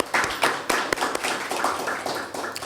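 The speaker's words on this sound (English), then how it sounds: "you want to give them applause?" Scattered clapping from a community meeting audience, irregular hand claps of moderate loudness rising and thinning over a few seconds, with no voices over it.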